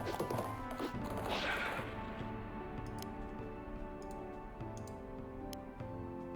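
Horses charge in the Battle for Wesnoth video game: a brisk, regular clip-clop of hooves plays over a constant game music and ambience bed, with a brief whooshing rush early on.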